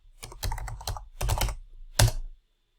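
A password is typed on a computer keyboard in quick clusters of crisp keystrokes, with short pauses between bursts, close and fairly quiet, then silence.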